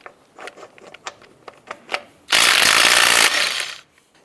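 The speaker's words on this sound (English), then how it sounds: "we're going to go ahead and remove the lug nuts." A 19mm socket works the lug nuts off a 2004-2012 Chevy Colorado wheel: a run of sharp, irregular ratcheting clicks, then a loud, close burst of about a second and a half of power-driven rattling that tapers off.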